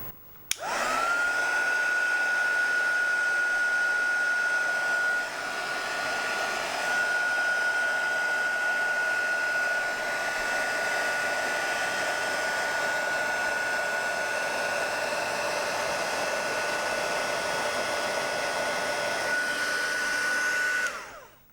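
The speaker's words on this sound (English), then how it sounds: "I'm going to use my heat gun here, and I'm going to warm up the tape" A heat gun blasts hot air over tape, a loud steady whooshing roar with a faint constant whine that runs unbroken for about twenty seconds, dipping briefly once, with no talking.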